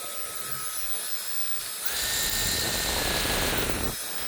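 A Dyson Airwrap with a burned motor hums steadily, then surges into a louder whirring whine for about two seconds before dropping back, close and alone.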